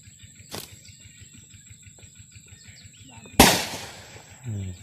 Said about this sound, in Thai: ต้องประทัดไล่ครับ